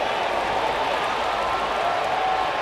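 A baseball crowd at a Yankees away game in Florida applauding and cheering, a steady dense wash of clapping and crowd noise heard from a distance.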